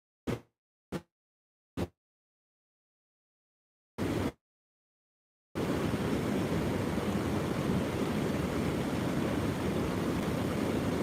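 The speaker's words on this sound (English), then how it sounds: "There is a lot of water. It's got like a kind of like a different sound to this today. More of a roar than a hiss" A few short bursts of rushing noise, then a broad, steady roar of heavy flowing water, loud and close, carrying on unbroken with no voices over it.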